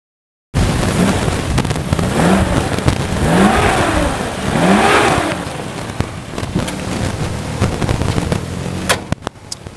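A 1996 Suzuki Katana GX motorcycle engine revs up close in several quick throttle blips, each rising and falling in pitch, then settles into a rougher idle with a few sharp pops at the end.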